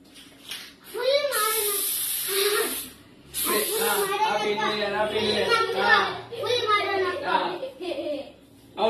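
Party spray cans hiss in two bursts of about a second each at a home New Year celebration, loud and close, amid excited chatter and children's voices and giggling.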